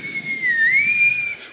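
A choir concert audience whistles together to imitate wind, a steady sustained tone that gently dips and rises in pitch for over a second, fairly loud and with no talking.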